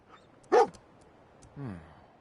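A dog companion in Fallout 4 gives one short, sharp bark, followed a second later by a lower whining yelp, both fairly close and standing alone over quiet game ambience.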